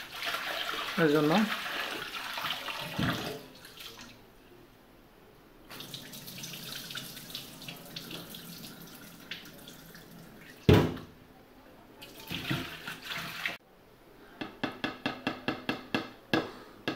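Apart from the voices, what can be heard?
washing loitta fish with water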